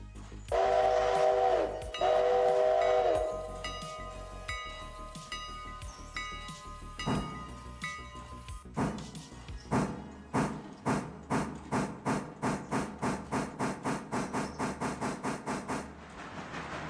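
A passenger train in a rail yard near a coaling tower, with a sustained whistle or horn blast up front, then steady rolling and rhythmic clanking chuffs that build in pace as it gets moving; no talking.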